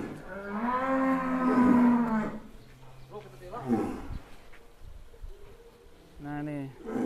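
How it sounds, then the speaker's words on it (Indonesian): A giant sacrificial cow weighing about 1.1 tonnes at Bintang Tani Farm gives a long, deep moo up close for about two seconds, followed by shorter, lower lowing calls while people talk nearby. "Sapi raksasa Bintang Tani Farm"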